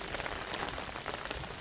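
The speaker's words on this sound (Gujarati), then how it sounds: "અત્યારે આપણે વરસાદ ચાલુ છે, બંધ થવાનું નામ જ નથી લેતો" Steady rain falls on a farm during a storm, a dense, even patter of drops on surfaces, close and continuous at low volume with no voices.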